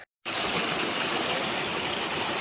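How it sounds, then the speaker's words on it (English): A clean river on a Russian volcanic island flows in a steady, close, rushing wash of water that starts abruptly after a split second of silence and continues unbroken, with no talking. "And we are crossing the cleanest river."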